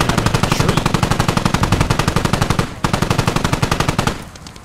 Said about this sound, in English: There's gunfire.